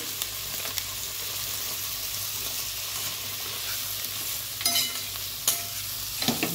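Eggplant pieces with Byadgi and Kashmiri chilies stir-frying in a pan for vangi bhat, giving a constant close sizzle with a few scraping knocks of a spoon near the end; no one speaks.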